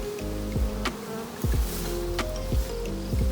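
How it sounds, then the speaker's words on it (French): Honeybees clustered outside a crowded hive during a September honey harvest, near goldenrod, buzzing in a steady close drone with individual bees swooping past and fading. "les abeilles chillent dehors pendant un certain temps"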